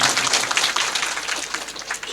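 An audience at a local council gathering applauds to welcome village heads, a dense, steady patter of many hands clapping at moderate distance with no voices over it.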